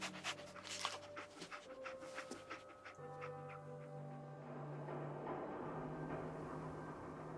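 Dogmeat, the dog companion in Fallout 4, panting in quick rhythmic breaths close by, with game music and ambience underneath and no talk.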